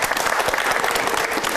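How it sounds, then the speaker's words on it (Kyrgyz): Studio audience applause, a dense steady clatter of many hands clapping, loud and continuous for the whole moment with no voices above it. "Кол чабып коелучу, кандай?"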